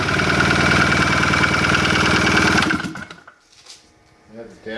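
A go kart's swapped-in small engine runs at a steady idle for nearly three seconds, a loud, even mechanical drone, then cuts off, leaving quieter background sounds and faint noises afterward.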